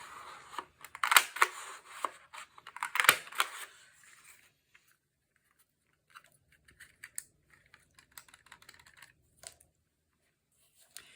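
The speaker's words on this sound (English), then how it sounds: "we'll punch 3 of them out of this green paper" Circle punch cutting circles out of green paper: several sharp crunchy clicks and paper rustles close up in the first few seconds, followed by quieter scattered handling taps and rustling.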